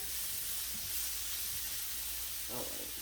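Onion frying in a pan on the stove gives a continuous bright sizzle, close and steady, with a faint stir near the end.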